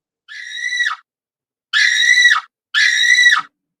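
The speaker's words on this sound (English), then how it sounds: "we let out the most blood curling, hair raising scream" Three loud, piercing, high-pitched screams ring out close by, a shorter first cry followed after a pause by two longer sustained shrieks in quick succession, with silence between.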